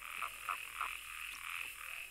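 Toads croak at a pond in a few short, rhythmic bursts over a steady high chorus, moderately loud and with no voices.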